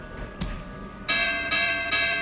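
A boxing ring bell in an anime bout clangs several times in quick succession, bright and ringing with overlapping metallic tones that sustain and stack loudly over a busy arena background.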